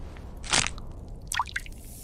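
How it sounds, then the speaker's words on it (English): Blood drips into a silver chalice: two or three distinct wet drip sounds, one sharp splash followed later by a cluster of smaller drops, clear against a quiet background. "when blood drips into the cup"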